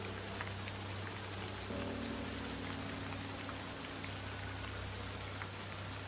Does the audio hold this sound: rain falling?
yes